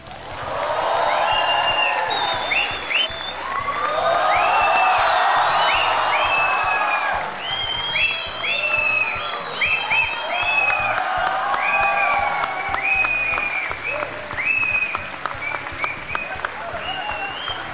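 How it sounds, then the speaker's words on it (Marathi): A studio audience applauds at the Marathi edition of the Aap Ki Adalat talk show, with loud, dense clapping and a few cheers sustained for about eighteen seconds. "आणि या टाळ्या अशा चालू राहू देत,"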